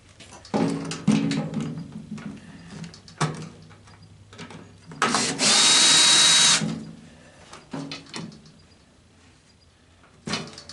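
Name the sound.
power drill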